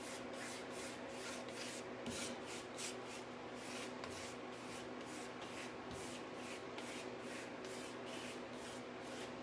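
A dry brush rubs thin chalk paint onto wood in steady, rhythmic back-and-forth strokes, a soft close scratchy swishing that repeats evenly throughout.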